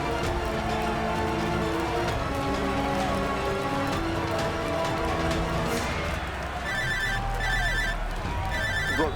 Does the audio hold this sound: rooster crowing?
no